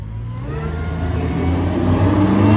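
A front-wheel-drive Pontiac and an F-body Camaro launch side by side at a drag strip, engines roaring loudly and climbing steadily in pitch as they accelerate away.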